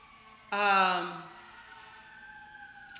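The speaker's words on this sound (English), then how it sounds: "there's an ambulance or a fire truck coming" An emergency siren, from an ambulance or fire truck, swells in suddenly and loudly, then fades to a steady distant wail that lingers in the background.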